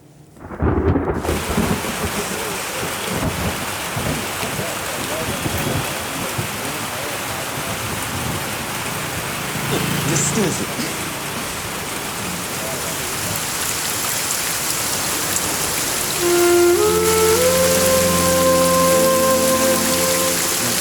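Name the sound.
rain falling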